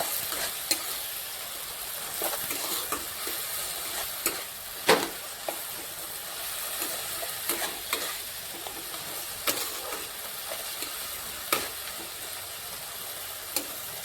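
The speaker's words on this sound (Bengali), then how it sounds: "মশলাটা দিয়ে দেব, আর এতে দিয়ে দেব বাকি হলুদটা দিয়ে এটাকে আমি ভালো করে নেড়ে চেড়ে নেব।" Spices and turmeric fry in a pan and are stirred, giving a continuous soft sizzle marked by repeated sharp spatula scrapes and knocks against the pan at irregular intervals, close by, without speech.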